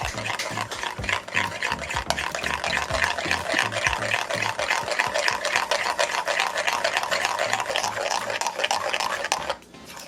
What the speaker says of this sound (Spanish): ahora sí vamos a mezclar todo de una vez